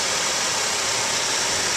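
A 2013 Ford F150 Crew XLT with a 3.5L twin-turbo EcoBoost V6 idles steadily, a close, even whirring hiss with no voices over it.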